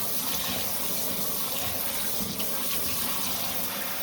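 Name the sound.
pouring water into a container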